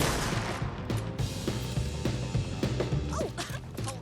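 Automatic shotgun fire in the video game Alan Wake 2, a dense run of sharp blasts over a heavy low game score, with several shots packed close together across the clip.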